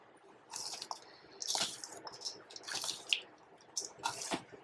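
Lemon rice (pulihora) being mixed by hand, soft wet squishing and sticky clumping sounds in irregular bursts, close but quiet, with no talking.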